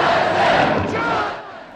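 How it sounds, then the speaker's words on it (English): An arena crowd in the film Rollerball chants Jonathan's name, a loud, massed roar of voices that holds steady before fading a little. "the crowds chant his name in the arena"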